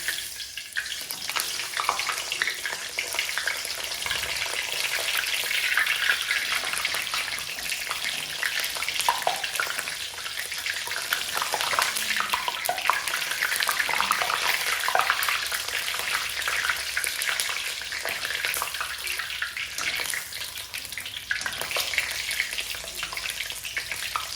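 Bhujia dough pressed into hot oil in a large kadhai at home fills the space with a steady, bright frying hiss that stays even and moderately loud throughout, with no talking.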